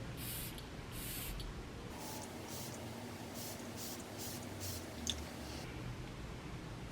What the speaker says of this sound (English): And I'm just gonna give it a good squirt.